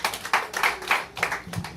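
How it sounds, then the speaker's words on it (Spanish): A church congregation claps during a bilingual sermon, a short burst of rhythmic hand clapping in a few uneven beats, close and fairly loud. "Un aplauso al Dios de gloria."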